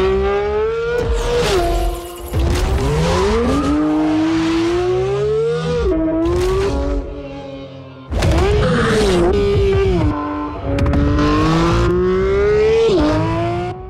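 A Porsche 911 GT3 RS engine heard from on board while driving: a loud, high-pitched flat-six wail rising through the revs, with sharp pauses at gear changes and repeated climbs, continuous and close, with no talk.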